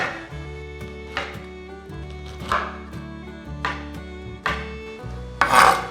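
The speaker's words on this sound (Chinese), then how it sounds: "把雪白菇切碎" A kitchen knife chops white beech mushrooms on a board, producing irregular dull taps and soft scraping strokes at a steady working pace, close and clear with no voices.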